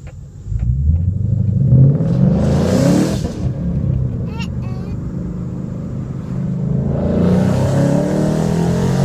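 A 2012 Ford Mustang GT V8 engine rumbles and revs loudly nearby, holding a steady roar after a brief rise, with talk over it.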